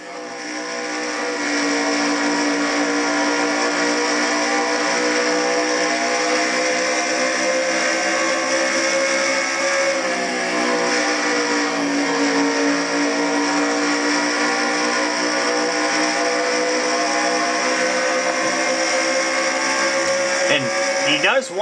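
Race car engines at Dover in a racing game, heard from just behind another car's back bumper: a loud, steady, high-pitched engine drone with a held tone that slightly dips and rises, continuous throughout with no talk.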